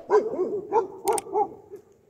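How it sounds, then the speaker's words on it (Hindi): Dogs bark at night in a deep forest near a camp with nomadic shepherds: about five hollow, mid-distance barks with a short yip between them, fading out toward the end. "जिस हिसाब से कुत्ते भौंकने लगे हुए हैं"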